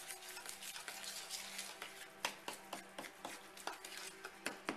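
A spoon stirs a lavender essential oil sugar scrub in a bowl, scraping and clinking against the sides in a steady rhythm of gritty swishes and sharp taps, close and fairly quiet with no talking.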